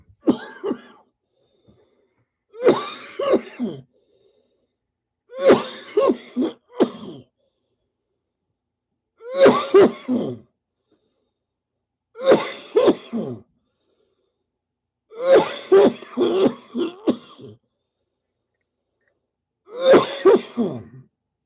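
Repeated bouts of coughing and throat clearing, about eight bursts spaced a couple of seconds apart, close and loud against a silent background.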